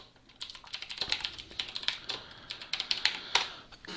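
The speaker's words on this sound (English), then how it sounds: "excuse my clicky keyboard." Rapid clicky keyboard typing, a dense stream of sharp key clacks with uneven rhythm, close up and fairly quiet, with no talking.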